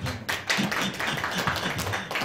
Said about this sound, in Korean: 박수 한번 주시할까?